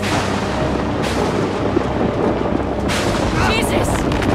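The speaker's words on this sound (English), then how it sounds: "The storm's getting worse." Thunder from a storm in the video game Outlast 2, a continuous deep rumbling roar with a couple of sharper cracks and bursts, loud and close.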